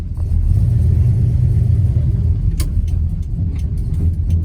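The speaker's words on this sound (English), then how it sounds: "I believe the engine is cammed for sure. I think that's why we kind of get that rumble." Steady low, lumpy rumble from the cammed engine of a 1967 Chevrolet Chevelle SS cruising down the road, loud and close throughout, with a few faint ticks and clicks over it.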